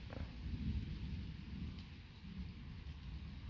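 Steady rain hiss with a low, continuous rumble underneath, like distant thunder, during a strong nighttime electrical thunderstorm, with no voices.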